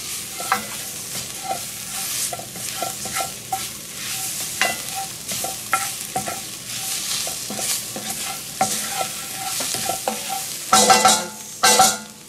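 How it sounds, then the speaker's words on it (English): Ingredients stirred in a sizzling pan for smothered steaks, with repeated rhythmic scrapes and clinks of a utensil over steady frying and a burst of louder scraping near the end. "stir that in really well"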